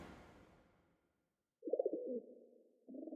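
A cartoon bird coos softly in an anime scene, a short rounded call following a fading noise and a moment of silence, with another coo beginning at the end.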